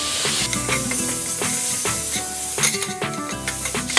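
Ginger garlic paste sizzles in hot oil in a pan for a bottle gourd curry, a steady bright hiss that runs under background music.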